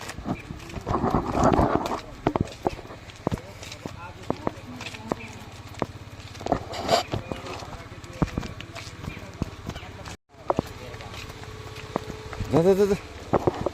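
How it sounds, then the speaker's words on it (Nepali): Cattle being herded along a narrow village footpath toward a stream, hooves clopping sporadically nearby while a person talks over them and an animal calls briefly near the end. "गाई बस्तु लिएर जाँदैछौँ। खोला पुग्न आँट्यौँ।"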